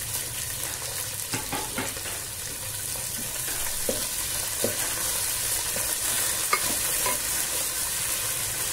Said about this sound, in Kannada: ಇವಾಗ ಈರುಳ್ಳಿ ಹಾಕೊಂತೀನಿ ಮತ್ತು ಕರಿಬೇವಿನ ಸೊಪ್ಪು ಹಾಕ್ತೀನಿ